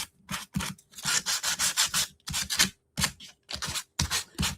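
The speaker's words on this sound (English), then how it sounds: "let's try with our sandpaper again" Sandpaper rubbed along the edges of scrapbooking paper, making close, rhythmic bursts of dry scraping strokes in quick runs with short pauses between them, and no voices.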